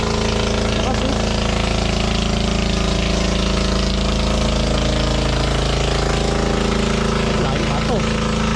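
A pool pump machine runs loudly and steadily, a dense mechanical drone with a strong low hum that holds throughout, with voices talking faintly underneath.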